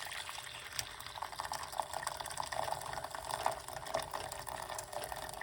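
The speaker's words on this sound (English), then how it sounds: "So we're gonna put 1 cup of hot water." Hot water pours steadily from a vessel into a container, one cup's worth, with a continuous splashing trickle that fills the whole stretch at moderate level and no talk.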